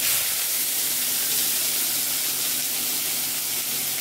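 Chopped onion hits hot oil with cumin in a pan for egg bhurji, giving off a loud, steady, close sizzle and hiss that holds unbroken the whole time.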